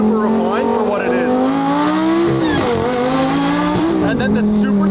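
A single-clutch Lamborghini Gallardo accelerates hard up close, its loud engine note rising, dropping briefly at a gear change, then rising again, with someone talking over it.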